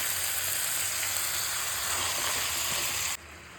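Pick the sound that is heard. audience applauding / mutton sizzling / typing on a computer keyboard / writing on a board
mutton sizzling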